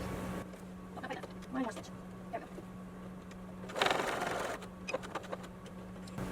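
A sewing machine stitches the fabric of a tote bag, giving a quiet, steady motor hum that pauses briefly partway through while a person talks softly over it.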